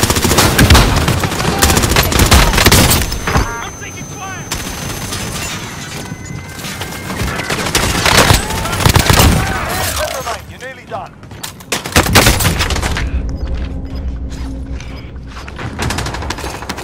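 Gunfire in the Warzone video game at Verdansk, dense loud bursts of automatic fire and heavy shots that continue for most of the stretch, close by and mixed with clatter, impacts and occasional voices.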